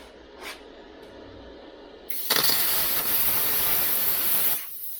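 A Vevor Cut 50 plasma cutter set to 50 amps cuts through rusty metal, its loud roaring hiss bursting on after a quiet start, holding steady for a couple of seconds, then cutting off.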